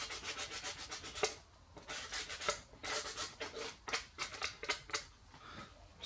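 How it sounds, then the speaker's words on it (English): Abrasive emery cloth rubbed back and forth over the freshly trimmed edge of a cut metal toolbox drawer divider, a steady run of short, close scratchy strokes with brief pauses between passes. "Just do a little bit of a deburr on that."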